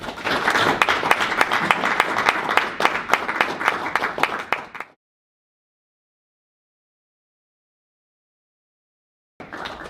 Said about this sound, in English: How about a round of applause for Sheldon?